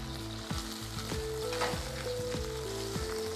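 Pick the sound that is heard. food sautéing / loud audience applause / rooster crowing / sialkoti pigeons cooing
food sautéing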